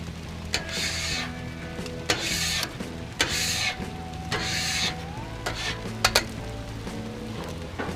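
Potatoes fry on an oiled Blackstone griddle for corned beef hash, a steady close sizzle broken by several loud metal spatula scrapes across the flat steel at irregular intervals.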